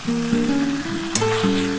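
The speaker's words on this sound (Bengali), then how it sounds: "আগে একটুখানি ভালো করে এই মশলাটার সাথে কষিয়ে নিতে হবে" Cauliflower cooks with spice masala in a pan, giving a close, continuous sizzle with stirring scrapes and a short sharp clink near the end.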